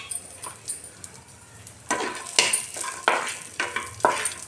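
Raisins dropped into hot ghee in a kadhai crackle and sizzle, with a quiet lull first and then bursts of frying hiss and stirring scrapes, close and fairly loud.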